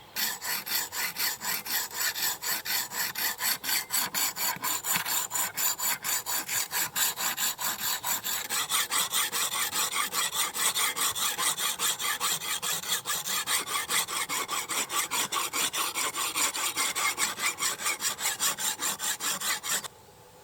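Steady rhythmic rasping strokes of a diamond sharpener drawn along the edge of a survival hatchet, continuous and close for about twenty seconds with no talk.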